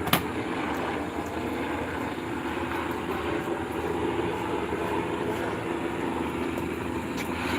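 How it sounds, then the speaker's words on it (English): A helicopter circles overhead above a residential neighborhood at night, giving a steady, broad rotor and engine roar that holds at a constant level throughout, with no talking. "that fucking helicopter is doing one circle right around here"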